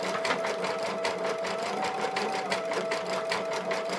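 An embroidery machine stitches a design with a fast, even mechanical chatter of needle strokes over a steady motor whine, close and continuous, with no talking.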